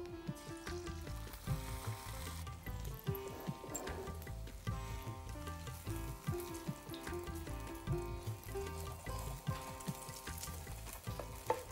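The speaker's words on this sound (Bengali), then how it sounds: "খুব ধিমা আঁচে ভাজতে হবে। একটা থিন অমলেট তৈরি করে নেব।" A thin omelette of one egg with a little salt fries on very low heat in a pan. There is a soft continuous sizzle along with repeated scraping and stirring clatter close by, and nobody speaks.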